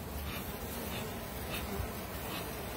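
A soft, steady hum of honeybees buzzing, faint and continuous, with no voices.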